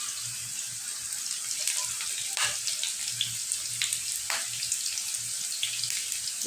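Garlic, chopped onion and green chili frying in a pan, a steady close sizzle with bubbling crackles and a few sharper pops throughout, no voices.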